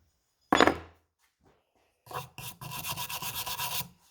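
A knife blade is rubbed against a sandpaper block in rasping strokes, one sharp scrape early, then a short burst and a steady run of rapid back-and-forth rubbing, close and clear with no voices.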